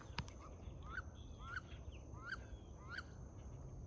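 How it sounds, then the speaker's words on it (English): Wood ducks by a farm pond on a Florida farm, giving four rising squeaky calls spaced about half a second apart, faint and somewhat distant over a quiet outdoor background. "Little baby wood ducks."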